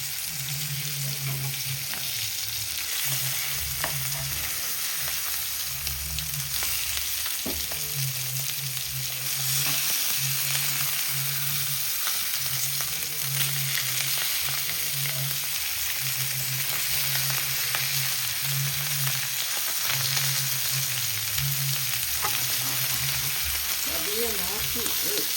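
Mackerel fish frying in hot oil, a constant loud sizzle and crackle that runs throughout with a low intermittent hum beneath it.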